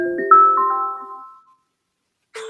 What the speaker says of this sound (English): phone. I'm getting a call.